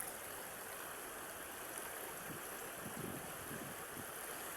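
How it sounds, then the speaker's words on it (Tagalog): A strong river current rushes over slippery rocks, a steady broadband roar of flowing water heard from nearby at low level with faint low churning, no talk. "Kasi yung yung agos ng tubig medyo may puwersa."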